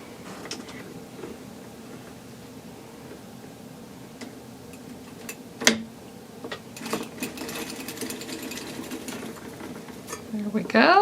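A hand-cranked circular sock machine knits steadily, its needles and cylinder giving a continuous rapid ticking and clattering with a few sharper clacks, close and fairly loud throughout.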